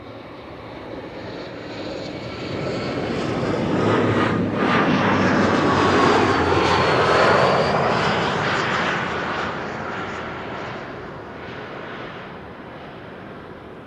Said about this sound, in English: There is a bizjet coming this way from LEU from Andorra.